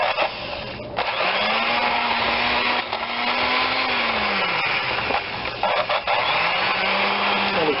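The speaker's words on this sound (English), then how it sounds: "we cream the Splenda and the eggs together. Excuse me, the Splenda and the butter together with the vanilla." An electric mixer creams Splenda and butter with vanilla, its motor whirring steadily up close and shifting pitch as the speed changes, with no talking.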